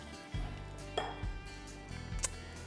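Spoon stirring crushed pecans through thick gluten-free brownie batter in a bowl, a few soft scraping knocks and clinks close up, with no talking.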